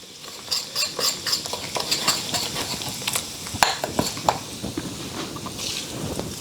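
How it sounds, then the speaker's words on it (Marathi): Spice masala stirred into poha chivda in a hot oiled pan gives a steady, close scraping and rustling, with light sizzling and a few sharper clinks of a spatula on metal throughout. "सगळा मसाला घालायचा आणि हा छान ढवळत राहायचं आहे"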